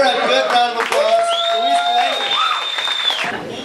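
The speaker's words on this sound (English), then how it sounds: "So give her a good round of applause." A comedy club audience gives a round of applause for a comedian, with clapping and cheering mixed with loud whoops and shouts, close and lively, easing off toward the end.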